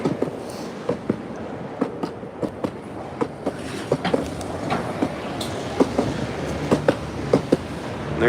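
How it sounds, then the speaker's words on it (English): A subway train rumbles underground beneath a Chicago street, its wheels clacking in a steady, evenly spaced rhythm over a low continuous roar. "that sound is a subway train going underneath"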